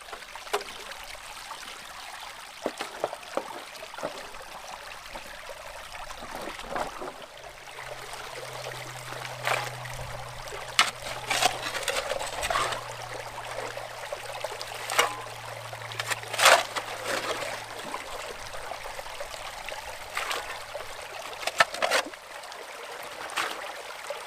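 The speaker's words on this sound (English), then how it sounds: "Just going to set this sluice back up again and then run another bucket." Water runs steadily through a gold sluice outdoors, a quiet continuous trickle and gurgle with a faint low hum in the background and occasional soft knocks.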